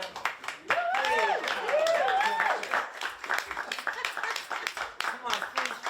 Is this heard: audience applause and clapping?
yes